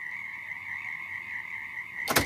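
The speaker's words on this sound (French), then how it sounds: "je vais leur faire entendre des chants de grillons" Recorded cricket song plays to houseplants as a steady, high, continuous trill. It ends in a brief loud burst of noise.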